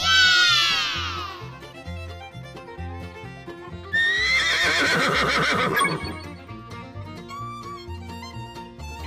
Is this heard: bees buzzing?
no